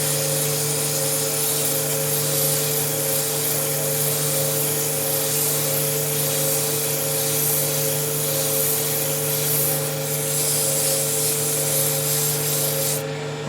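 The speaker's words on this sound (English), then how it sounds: "We'll do a little more sanding as we get further down." Sandpaper of 180 grit rubs against an end-grain wooden goblet spinning on a lathe, a steady close abrasive rasp over the constant hum of the lathe motor.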